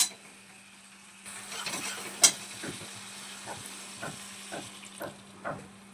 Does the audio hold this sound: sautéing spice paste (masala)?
yes